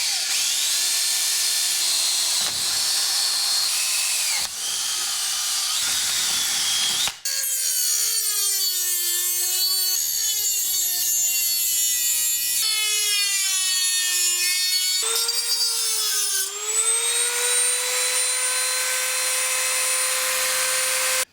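A metal actuator arm for a Honda Trail 90 is cut out by hand, steady close rasping saw strokes that repeat with short pauses, shifting pitch as the cut progresses.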